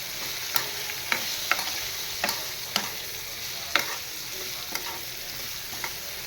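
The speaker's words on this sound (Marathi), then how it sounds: "तर छान मिरची अशी या फोडणीमध्ये परतवून घेणार आहे" Green chilies fry in a hot oil tempering with fennel seeds and asafoetida, a continuous close sizzle broken by irregular sharp clinks and scrapes of a spoon stirring the pan, with no talking.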